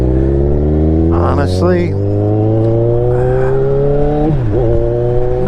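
A 2016 Kawasaki Ninja 1000 motorcycle engine drones steadily while riding, its pitch climbing and dipping through gear changes, loud and close under a rider's brief talk and wind.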